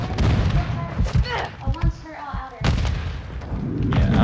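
Grenade explosion in Call of Duty goes off as a deep boom among thumps and gunfire, with players talking over the game audio.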